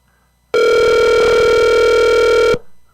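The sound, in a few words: telephone ringing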